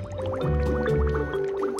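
Water rinsing soap away in a kids' learning game, a close, bubbly gurgling fill of liquid with soft drips, heard alone.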